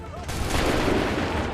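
Musket volley fire in the video game Assassin's Creed 3 comes as a dense, loud crackle of many overlapping shots that rolls on for over a second, with shouted voices nearby.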